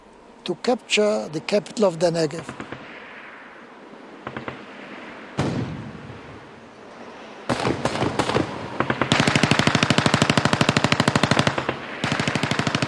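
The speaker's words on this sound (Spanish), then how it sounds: "Después de un intercambio de disparos," Rapid bursts of automatic gunfire crackle back and forth, some fast and sustained, others in short volleys, with louder sharp shots among them, in a battle between Israeli forces and Egyptians holding a fort in the Negev.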